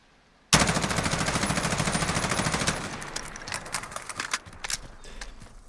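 An MK18 CQBR rifle in Call of Duty Modern Warfare fires a loud, sustained full-auto burst of about two seconds, followed by a few scattered single shots that trail off.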